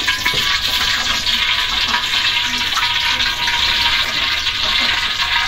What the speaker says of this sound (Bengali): তেলটা একটু বেশি দেবো, কারণ অনেকগুলো পিস তো, এগুলা একটু ভাজা ভাজা করে তারপরে রান্না করে নেব